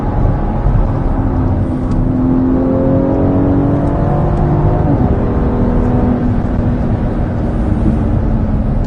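A BMW X4M (G02) accelerating hard under way, its engine note rising steadily through the gears with a shift around the middle, loud and continuous from inside the car.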